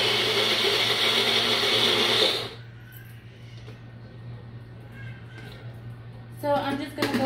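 Blender mixing baby puree at home, a loud close whirring motor run that stops abruptly, followed by quiet room tone and a brief clatter at the end.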